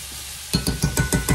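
Vegetables for picadillo frying in a pan: a steady hiss of sizzling oil, then a run of rhythmic scraping knocks from stirring, close and loud.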